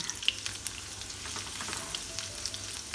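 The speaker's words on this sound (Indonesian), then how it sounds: "tumis bawang-bawangan terlebih dahulu" Shallots and garlic sauté in a pan with a steady, quiet sizzle and light frying crackle, broken by small pops and stirring scrapes, with no voices.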